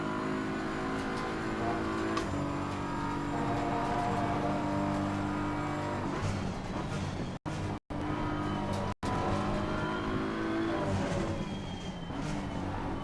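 A race car in Assetto Corsa Competizione screams up the back straight, its engine note climbing steadily through the gears, with a few sharp cuts on upshifts, loud and close throughout.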